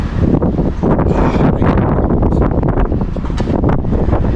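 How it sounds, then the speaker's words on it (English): Strong wind buffeting the microphone among the ancient Roman ruins of Pompeii, loud, continuous gusty rumble and roar throughout. "Wind's picking up."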